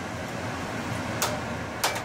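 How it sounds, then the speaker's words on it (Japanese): Kitchen exhaust fan running while ramen is prepared at home, a steady whooshing air noise held at an even level, with two brief clicks or knocks partway through. "ごめん、換気扇がうるさかったね。"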